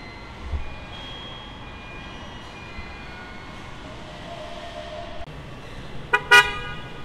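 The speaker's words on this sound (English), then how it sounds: "With a flash of the lights and a honk of the horn, a new vehicle drives off the line" A new Toyota vehicle leaving the production line at a North American plant gives a short double car-horn honk near the end, rising over a steady factory hum with faint machine whines.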